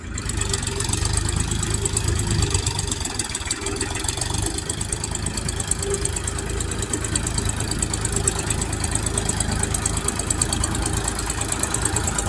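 Tractor engine running steadily while working a wet paddy field, a loud continuous idling chug with an even mechanical knock throughout, no voices over it.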